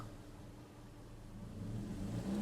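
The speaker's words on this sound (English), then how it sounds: "let me push it down to what I would feel like is about where it would start revving up before" A Toyota Camry engine idles low, then rises into a gradual rev as the gas pedal is pressed, a faint mid-pitched hum swelling toward the end.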